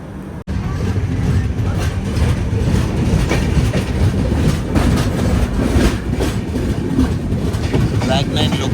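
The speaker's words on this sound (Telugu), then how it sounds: "మన ట్రైన్ అయితే బయలుదేరిపోయింది." Visakhapatnam Express running after leaving Warangal, a steady loud rumble of rail wagons with faint rhythmic clatter throughout, heard from inside the train with a brief dropout near the start.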